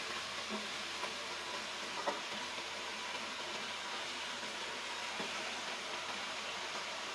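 Onion sizzles steadily in hot oil in a pan while Japanese curry rice is being cooked, a soft, even hiss with a few faint stirring clicks.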